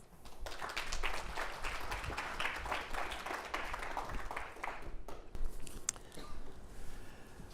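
A conference audience breaks into warm applause to welcome Judge Rakoff, dense steady clapping from a sizable crowd that fades away after about five seconds, leaving a quiet hall with a few faint knocks.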